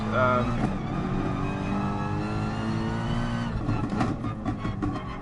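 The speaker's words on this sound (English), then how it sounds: "I love the sound of the engine and the way that the car changes gear." A race car engine in Gran Turismo Sport revving loudly and steadily, pitch climbing through gear changes, with a voice talking over it.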